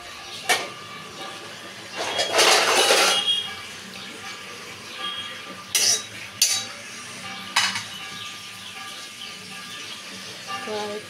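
A wok being set down on a gas stove and handled, giving a few sharp metallic clinks and a longer scraping clatter, moderately close, over steady kitchen background noise.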